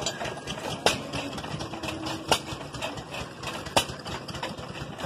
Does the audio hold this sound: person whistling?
no